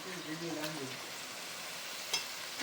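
Vegetables tipped into a hot pan for curry, a soft steady sizzle with a brief voice at the start and a single sharp clink later.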